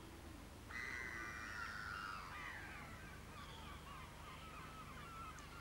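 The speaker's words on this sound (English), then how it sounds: "Only the noise of seagulls remains." Seagulls call over a deserted winter seaside town at Minehead: a couple of long, drawn-out cries at moderate distance, followed by fainter calls, with a steady low background hum throughout.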